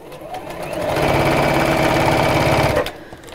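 A sewing machine runs along an existing stitch line on shop-bought fabric, a close, loud, steady rapid chattering whirr lasting about two seconds before stopping abruptly.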